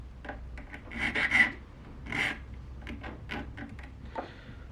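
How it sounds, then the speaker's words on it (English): A metal file rasps across the end of a guitar fret on a Fender Jaguar–style build in a few short, scraping strokes, close and fairly loud, with no talking. "But 2 rubs of the file,"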